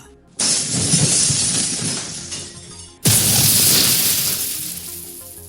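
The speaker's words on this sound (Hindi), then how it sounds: "चट्टानों से टकराता हुआ ट्रक गहरी खाई में जा गिरा और एक धमाके के साथ आग की लपटों में घिर गया" In an audiobook sound effect, a truck smashes into rocks and plunges into a deep ravine, then bursts into flames. Two loud, abrupt crashing booms follow each other, each trailing into a long, roaring rumble, with no voices over them.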